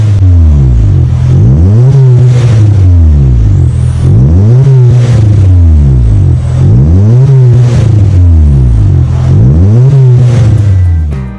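Small-engine Honda Brio with an aftermarket 1.75 stainless exhaust and resonator revving repeatedly, about five loud rising-and-falling throttle blips in a steady rhythm, close and forceful with no talk.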